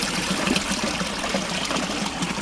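Cold spring water pours and trickles steadily nearby, a continuous bright splashing flow at moderate loudness with no speech over it, at a historic prison site outdoors.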